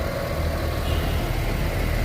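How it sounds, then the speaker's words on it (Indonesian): A bus engine idles before departing on the journey home from an umrah trip, a steady low mechanical rumble held close and continuous with no talk. "Persiapan pulang, busnya sudah ada guys."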